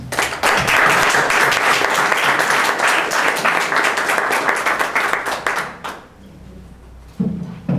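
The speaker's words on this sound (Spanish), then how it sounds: "Recibimos con un aplauso al licenciado Alejandro Ruiz Juárez" An audience at an Asociación Nacional de Abogados lecture applauds to welcome licenciado Alejandro Ruiz Juárez. The dense clapping holds strong for about six seconds, then fades, and a brief burst returns just before the end.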